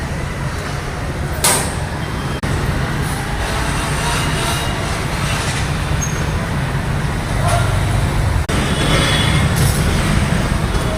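Three pumps load diesel into a 12,000 litre container, giving a continuous loud mechanical hum and rumble with a few brief clanks and knocks over the top.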